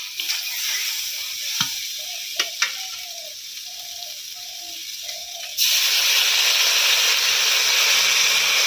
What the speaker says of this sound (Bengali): সবজিগুলো সেদ্ধর জন্য আমি অল্প পরিমাণে জল দিয়ে দেবো।